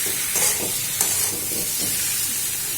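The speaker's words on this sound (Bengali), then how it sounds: "কষতে হবে, কষতে হবে, কষেই যেতে হবে।" Curry of onion, ginger, garlic and tomato being stirred and sautéed in a pan, with a soft steady sizzle under repeated scraping strokes of a spoon, close and continuous.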